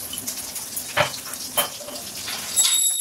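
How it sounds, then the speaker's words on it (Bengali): Sliced onion shoots crackle and sizzle as they fry in a wok with dried chilli and salt, a soft, uneven hiss broken by a few sharper pops and a louder flare at the end. "এই কড়াটাতে এই যে পেঁয়াজ কুড়ি কেটে নিয়েছি, এইগুলো ভাজবো"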